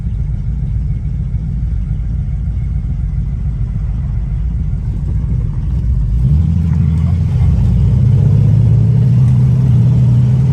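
A muscle car idles with a low rumble, then pulls away and the engine note climbs as it accelerates. The sound is loud and close, probably from inside the car, with steady road noise underneath.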